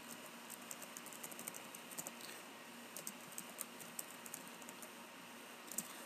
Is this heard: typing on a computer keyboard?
yes